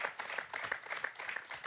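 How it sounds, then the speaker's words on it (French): A stadium crowd claps for a substitute footballer during a 1997 Clermont Foot versus PSG match, a faint, distant patter of applause lasting under two seconds. "Applaudissements pour Stéphane Lestrade."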